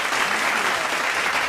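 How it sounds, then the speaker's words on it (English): A studio audience gives a guest, Ann Charles, a brief burst of clapping, thick, steady and continuous throughout. "Let's give it a little clap here."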